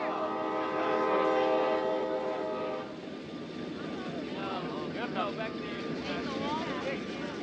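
A train horn sounds in a sustained chord as a train arrives at a station, then fades into the rumble of the moving train while people talk nearby.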